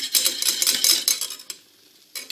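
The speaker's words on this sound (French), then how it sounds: "On met du beurre dans une casserole. On attend que celui-ci fonde" Butter melting in a saucepan for béchamel is stirred with a utensil, making quick, quiet scraping strokes in a steady rhythm, then a brief pause and one more scrape.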